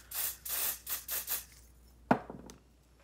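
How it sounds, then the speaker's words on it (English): Spray foundation misted from a can straight onto a makeup brush in several short hissing bursts, close and fairly soft, followed by a single brief knock. "And then we're just going to spray it directly onto the brush."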